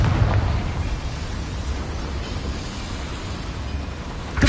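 Confringo blasting spell in Hogwarts Legacy, a dense rumbling explosion with a hard attack at the start, a sustained roaring, crackling tail, and another burst right at the end, no voices.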